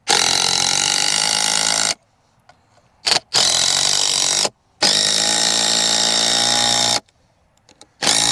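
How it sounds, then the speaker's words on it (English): A power drill drives screws into a wooden berry trellis in loud, sustained bursts of whirring, broken by short pauses. There are two long runs and a few brief pulses, close up and with no talk. "Let's go ahead and drive our screws home."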